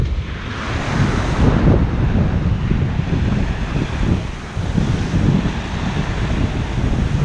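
Wind and rushing waves aboard a Hallberg-Rassy 54 sailing yacht out on the Atlantic, a loud continuous roar of wind buffeting the microphone over surging water along the hull.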